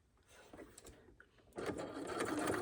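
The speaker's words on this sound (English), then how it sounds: "Now, you're just going to start sewing again, 1/4 inch." Sewing machine stitching quilt binding, a quiet start with a few clicks and then a steady, close, continuous mechanical whirr of the needle running.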